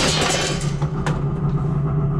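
A snowmobile engine idles close by on a winter hill with a low, steady, continuous rumble and a faint higher whine, with no voices.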